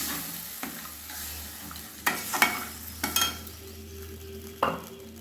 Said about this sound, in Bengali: কাজু বাদাম বাটাটা দিয়ে দিলাম, মিক্সির বাটি ধুয়ে জল দিয়ে দিলাম, ভালোভাবে মিশিয়ে দিলাম।